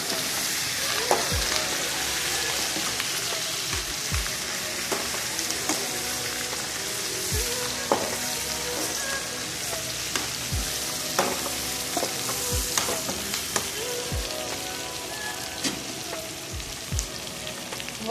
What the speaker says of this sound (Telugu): చూడండి కలపెట్టాలి బాగా, అడుగు అంటుతుంది. ఎందుకంటే అవి బాగా గట్టిగా వేగాలి.